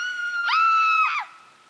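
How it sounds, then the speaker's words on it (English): A single sustained scream of about a second, bright and tonal, rising and falling at the edges, loud and alone against a quiet background. "Then I heard people screaming."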